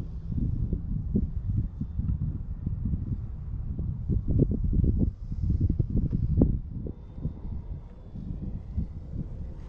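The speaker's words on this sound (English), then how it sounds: "Too windy." Wind on a gray day at a model airplane flying field rumbles low and steady against the microphone, gusting continuously without talk.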